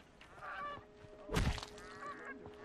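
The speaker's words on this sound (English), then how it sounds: "Invincible ducks or geese." Geese or ducks honking in the game Horizon Zero Dawn: a few nasal honks spread across the moment, with one loud burst in the middle over steady background game ambience.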